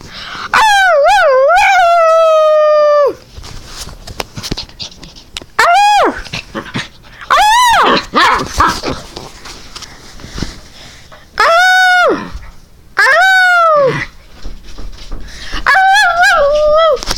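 A dog doing a trick lets out long, loud, close howls in repeated drawn-out rising and falling wails, with short gaps and quieter whimpers between them.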